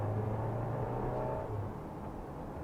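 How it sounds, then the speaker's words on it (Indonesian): A 2024 Mercedes-Benz GLA 200 engine revs under light throttle with a turbo-like whirring note, fairly faint and steady, then easing off as the throttle is released. "itu tuh ada suara seperti suara turbonya gitu, yang enak juga, yang nagih"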